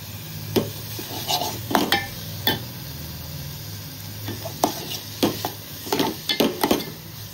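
Grated paneer bhurji with freshly added coriander is stirred in a pan, a spatula scraping and tapping against the metal in irregular, close clicks over a faint background sizzle.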